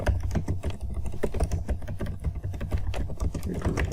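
Steady rapid typing on a computer keyboard, close and fairly loud, with dense irregular key clicks running continuously without speech.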